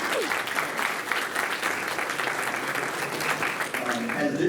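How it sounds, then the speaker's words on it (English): A parish breakfast audience claps continuously for several seconds, dense sustained applause from a roomful of people at steady loudness with no speech over it. "let's give them a round of applause"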